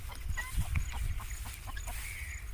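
Guinea fowl chicks peep and chirp in thin, high calls over a low rumbling background, several short cheeps scattered through.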